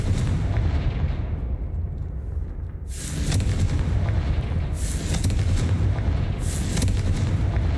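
Blasting-spell explosions from Confringo in the game Hogwarts Legacy: three loud booming blasts spaced a couple of seconds apart, each with a bright crackling burst over steady low rumble.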